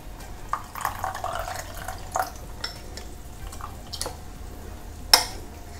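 Water trickles into rice batter in a bowl, with soft splashes, drips and a few light clinks of utensils; quiet and close, with no talking.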